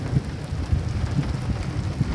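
Heavy rain pours steadily during a storm in Buraimi, Oman, with low thunder rumbling underneath in a dense, continuous wash of sound and no voices.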